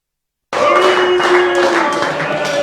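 An audience bursts into applause after a short silence, many hands clapping in a dense, steady ovation that stays loud to the end.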